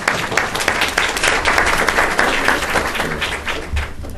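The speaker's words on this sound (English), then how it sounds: "So would you just a little bit of applause for Jugnu." A steady patter of audience clapping fills a discussion event on Pakistan's current challenges, moderately close and continuous throughout.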